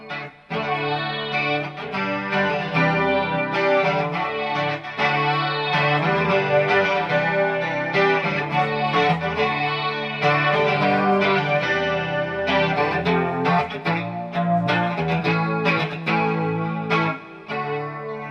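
Electric guitar plays sustained chords through a Quilter 101 Reverb Mini Head amp, thick with chorus-like shimmer and a wash of reverb tails, loud and continuous.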